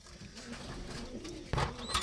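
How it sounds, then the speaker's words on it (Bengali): Pigeons in a loft give soft, low cooing calls, faint and close, with a brief louder rustle or flutter near the end. "তো এইখানে আমার বেশ কিছু কবুতর আছে"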